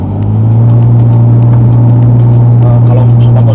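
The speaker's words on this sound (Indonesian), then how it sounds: "ini suara knalpotnya ya" The racing exhaust of a 2005 BMW E60 idles with a deep, steady rumble, loud and close, holding a constant low drone throughout.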